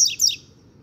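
A young papa-capim seedeater, under a year old, sings a quick pair of sharp, high-pitched chirps close by, followed by near silence.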